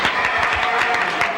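Steady audience applause from a studio crowd on a 1969 television talk show, dense and even clapping that fills the whole short stretch at a constant level with no break.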